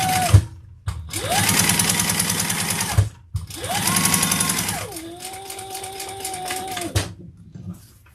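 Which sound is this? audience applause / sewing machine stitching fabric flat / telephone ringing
sewing machine stitching fabric flat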